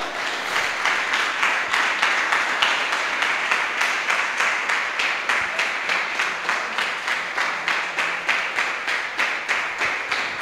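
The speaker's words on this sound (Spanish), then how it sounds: "El aplauso es para el Señor." Steady, sustained applause from a church congregation, dense clapping that holds at an even level for about ten seconds with no talk over it.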